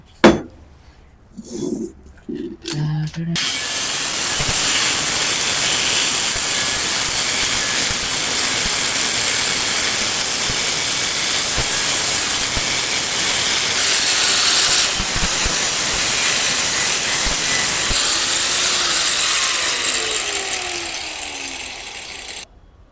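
A large machine cuts through copper with a loud, steady hissing roar that holds for about twenty seconds, preceded by a few brief knocks and clatters.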